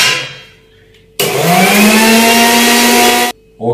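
A kitchen mixer grinder whirs loudly for about two seconds, blending juice ingredients with warm water, starting abruptly and cutting off sharply, then briefly restarting at the end.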